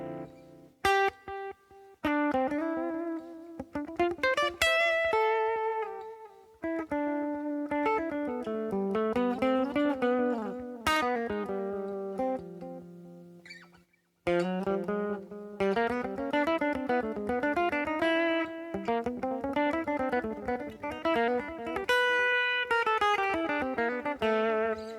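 Electric guitar played through a Neural DSP amp plugin with delay engaged, clean melodic single-note lines and chords with echoing repeats trailing each phrase, close and clear with a short pause midway and no talking.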